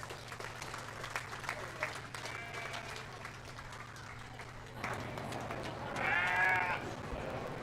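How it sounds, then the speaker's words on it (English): Clapping breaks out for the showmanship winners at a county fair sheep and goat show, moderate and scattered in a large space, with sheep and goats bleating nearby, a loud bleat rising toward the end. "Let's give them all a nice round of applause."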